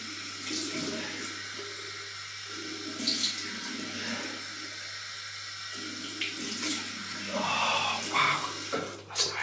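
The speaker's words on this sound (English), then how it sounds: "Cold water rinse." Cold water runs steadily from a bathroom tap to rinse the face during a wet shave. The stream is close and continuous, and its splashes rise and fall as hands move under the flow.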